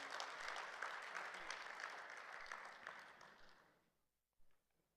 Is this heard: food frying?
no